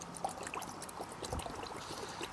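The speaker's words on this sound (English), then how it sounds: "Now, we're going to put some Berryman's B12 chem tool, fuel injection cleaner" Berryman's B12 Chemtool fuel injection cleaner is poured into the gas tank of a 1946 Ford Super Deluxe with a flathead V8, a faint, steady gurgling trickle close by.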